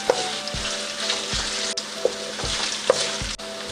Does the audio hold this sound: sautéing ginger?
yes